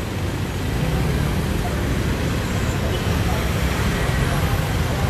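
Steady street traffic roar from passing cars and buses, loud and continuous throughout, heard close by while walking along a roadside.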